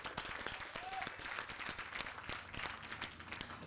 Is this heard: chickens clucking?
no